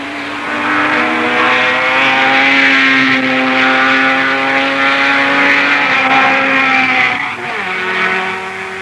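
1960s race cars start lap one of the 1.7-mile Rufford airfield circuit with a loud, sustained engine roar. Near the end, one car's pitch shifts as it passes close by.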